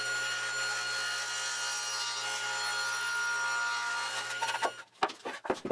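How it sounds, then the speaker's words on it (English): A table saw with a crosscut sled runs with a steady, loud whine as it cuts through wood, then winds down into a few sharp clunks and knocks. "I could flush up the bottom on the crosscut sled over at the table saw."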